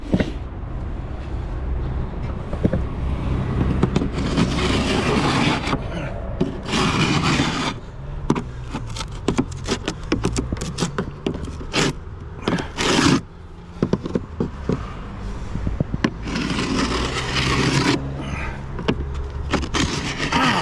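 A Sandvik triangle scraper with a small orange handle rasps across wood during exterior restoration work, in loud, close, continuous strokes with brief pauses between passes.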